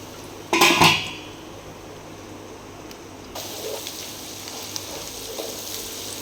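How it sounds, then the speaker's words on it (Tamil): Onions frying in a pot for biryani are stirred, starting with a loud metallic scrape of utensil on pot and followed by a steady, moderate sizzle. "பொன்னிறமாக வர வரைக்கும் கிண்டிக்கிட்டே இருங்க"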